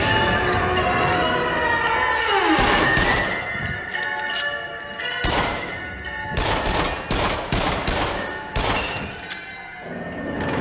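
Machine gun fire rattles in Rush of Blood VR, a rollercoaster shooter, coming as repeated loud bursts of rapid shots separated by short pauses over a droning, tonal game background.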